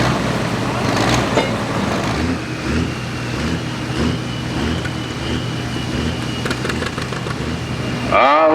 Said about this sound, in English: Listen to that Cummins.